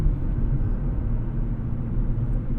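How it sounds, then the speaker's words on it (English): A 2024 Nissan Z Nismo with a nine-gear transmission drives along, heard as a faint, steady low rumble from inside the car. "Put your headphones in if you want to hear the best sounds that this car got to offer"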